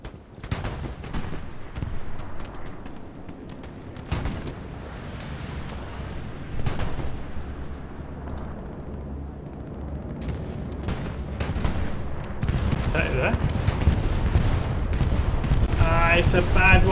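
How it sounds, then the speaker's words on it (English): Bombing run explosions in Hell Let Loose: several heavy booming blasts and scattered gunfire cracks spread across the clip, building into a dense, loud rumble of detonations near the end, with some voices underneath. "It's a bad bombing run."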